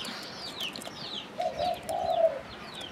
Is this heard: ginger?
no